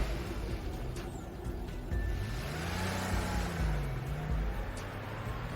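Car revving and accelerating away, a faint engine note climbing and falling over a few seconds under a noisy background.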